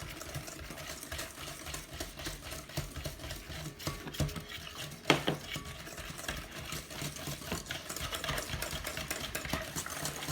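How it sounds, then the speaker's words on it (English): A spoon stirs milk and instant pudding mix quickly in a bowl, a faint, steady run of soft scraping and clinking strokes with one sharper knock midway. "stir milk and pudding for 2 minutes"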